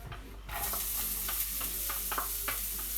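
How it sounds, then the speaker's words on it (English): Chopped onion and garlic hit hot olive oil in a pan on high heat, bursting into a loud, steady sizzle with intermittent stirring scrapes and crackles close by. "I've put some olive oil in, and I've got some chopped onion and garlic."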